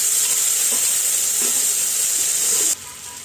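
Water splashed into a pan of frying spice masala with ground coriander and dried red chilli paste, giving a steady loud sizzling hiss that drops off sharply near the end.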